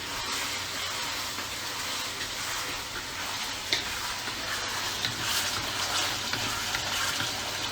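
Ginger, garlic and onions frying in a pan for sweet and sour pork, a continuous close sizzle with light crackles and occasional stirring clinks, no speech over it.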